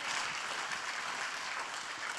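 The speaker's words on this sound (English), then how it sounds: "I think we can give you another round of applause for that" Steady, dense applause from an audience at a school dinner auction fills the whole stretch evenly, loud and close, with hardly any voices.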